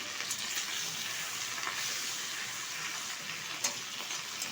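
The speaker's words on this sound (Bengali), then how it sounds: "এটা ঢেলে ভেজে নেব।" Cleaned katla fish roe frying in hot oil in a pan, a steady, even sizzle with a soft crackle throughout and no talking.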